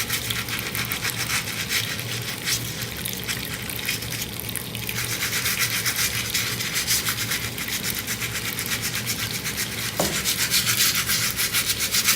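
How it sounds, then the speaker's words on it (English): A crystal is scrubbed with soap and a brush, giving a continuous wet, rapid rubbing and swishing close by, with steady intensity throughout and a small clink partway through. "I'm not going to do too much more scrubbing because obviously it's going to take it a minute"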